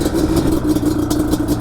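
A Yamaha Banshee quad's two-stroke engine running loud and close at a steady, buzzy idle with a slight rhythmic pulsing.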